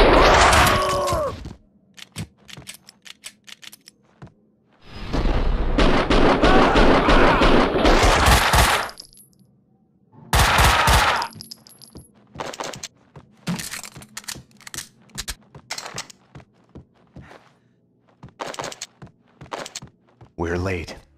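Bursts of gunfire from the video game Max Payne 2, with several loud sustained volleys and scattered single shots and cracks across the stretch, plus short impacts between them.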